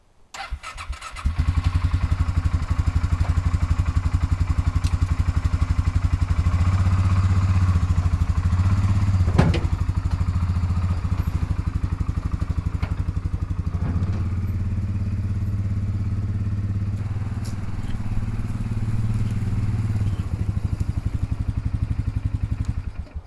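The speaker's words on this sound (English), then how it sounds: "Now it's just time to get the ATV unloaded" An ATV engine starts and runs steadily at a campsite, a loud, continuous idle with a few thumps and clatters as it is unloaded and moved, with no talking.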